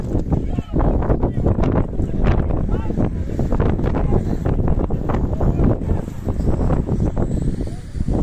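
Strong wind buffets the microphone at an outdoor Romanian third-league football match, a loud rough roar that surges in gusts throughout.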